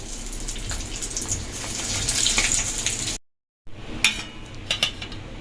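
Pieces of spiny gourd (kakrol) fry in a pan with a steady, hissing sizzle and faint clinks; the sound drops out briefly, then returns with sharper crackles and pops.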